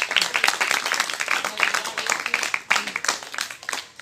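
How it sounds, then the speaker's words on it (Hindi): Villagers applauding a free-coaching teacher at a gathering in Dhanpalpur village, a burst of uneven, fairly close clapping from a modest group with distinct individual claps standing out. "एक बार सर के लिए हम लोग की तरफ तालियां बजा दिया जाए"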